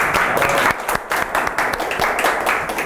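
A seminar audience claps at the close of a Korean fire-engineering exam talk, a steady ragged patter of many hands with a few sharper individual claps standing out through the nearly three seconds.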